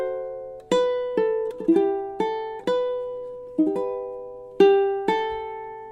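Solo ukulele plays two measures of jazzy chords from a Christmas song, a series of gentle strums and plucked notes in an unhurried rhythm, each ringing and fading before the next, close and clear with no talking.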